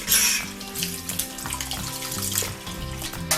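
Rice for paalada payasam is rinsed under a running tap, with a steady splashing water flow and some sloshing of grains throughout.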